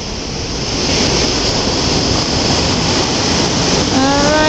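Ocean surf rolling onto a beach, steady loud broadband wash of waves with some wind buffeting on the microphone, continuous throughout, no talking.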